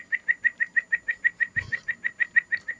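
Rapid, evenly spaced wing flaps from a bird in a Godzilla World cartoon, about seventeen crisp beats in under three seconds, close and clear, with one brief low thump midway.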